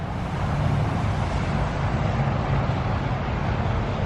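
Steady, dense roar of highway traffic, a continuous rumbling wash with no breaks, fairly loud and constant throughout.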